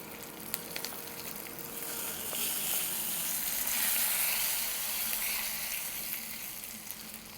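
Hot tempering poured into curd, setting off a loud, steady sizzle and hiss that swells toward the middle and then slowly fades, with no voices.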